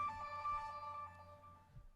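A phone ringtone plays as a steady tonal chime with several sustained pitched notes, fairly faint and fading slightly toward the end, with a low background hum.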